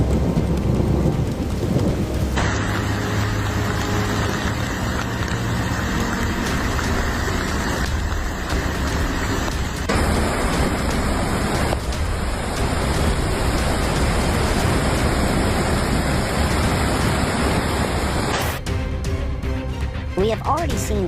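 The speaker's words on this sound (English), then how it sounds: "heavy rain is causing flash flooding" Steady heavy rain pouring down with rumbling thunder, a continuous dense hiss throughout.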